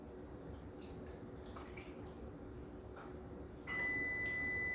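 An oven preheated to 350 degrees sounds its ready alert, a steady electronic beep tone that starts abruptly near the end over quiet kitchen background.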